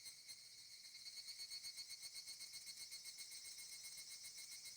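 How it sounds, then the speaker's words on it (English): Cicadas shrill faintly in the distance in a video game scene, a steady high-pitched pulsing drone that throbs in a regular rhythm with no talking. "I hear the cries of cicadas in the distance."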